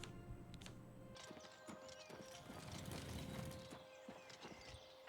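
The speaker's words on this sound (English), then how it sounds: "In this game they have them on the horses, riding horses instead of on foot like in Skyrim." A courier's horse in Oblivion Remastered clip-clopping along, steady hoof beats close by over a low ambient game background, with no talk.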